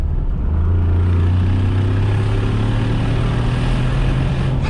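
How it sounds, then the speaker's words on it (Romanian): Mercedes G500 4x4² accelerating on kickdown: a loud, continuous engine drone heard from inside the car, its pitch climbing slowly and steadily, with road and wind roar underneath. "Ia să dăm un kickdown pe efficiency."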